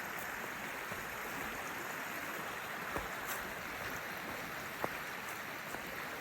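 A creek flows steadily beside a mountain hiking trail, a constant broadband rush of water with no voices and only a couple of faint splashes or footfalls.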